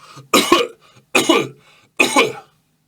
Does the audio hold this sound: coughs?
yes